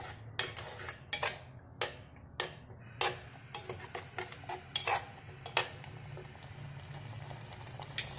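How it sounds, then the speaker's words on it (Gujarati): A spoon stirs ginger, chili and garlic paste with spices in a pan while cooking green pigeon peas (lili tuver totha). It gives a series of sharp metallic clinks and taps against the pan over a low bubbling hiss, and no one speaks. "મસાલાને સરસ રીતે મિક્સ કરી દઈએ"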